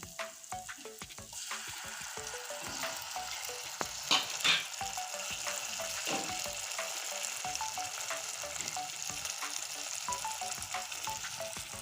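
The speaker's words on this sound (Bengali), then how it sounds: "এবার দেবো এখানে আছে শুকনো লঙ্কা এটা এখন দিয়ে দিচ্ছি" Dried red chillies hit hot oil over fried onion, garlic and tomato in a pan for taro-leaf curry, making a loud, continuous close sizzle with crackling pops and a few scraping stirs, no voices.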